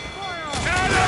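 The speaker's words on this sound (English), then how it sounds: "Those cannons have a long reach." Ship cannon fire during a naval battle in the Assassin's Creed Black Flag video game: a dense, rumbling volley of booms that builds in loudness over the second, mixed with game effects and music.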